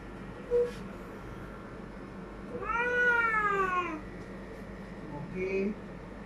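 A pet cat at a veterinary clinic in Dhaka gives a short mew, then a long, drawn-out meow, and then a final brief mew, close and fairly quiet in a calm room.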